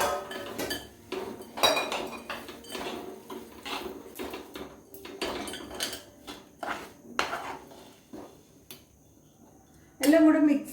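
A spoon scrapes and knocks against a pan while roasted sorghum is stirred with ghee, irregular clattering strokes at close range, with someone talking over parts of it.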